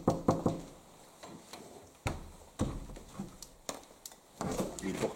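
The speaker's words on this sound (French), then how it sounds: "Essaye de le toquer." Knocking at a neighbour's door during a paranormal investigation: a quick double knock, then single sharp raps spaced about a second apart, with a brief faint flurry of taps at the end, in a quiet room.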